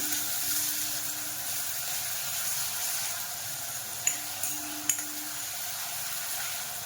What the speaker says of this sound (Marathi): तेल टाकून घेतलंय, त्याच्यात घालूया बारीक केलेला कांदा. त्याला चांगलं परतून घ्यायचंय.